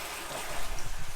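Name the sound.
toilet test flush with water supply fully open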